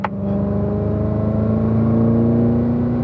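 Race car on the Spring Mountain track accelerating hard, its engine note climbing steadily in a loud, close, continuous drone that holds through a gear change, with no voices.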